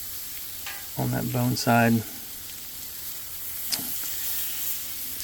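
BBQ chicken thighs sizzle on a flat griddle with a steady, close frying hiss that carries on throughout, while someone talks briefly over it.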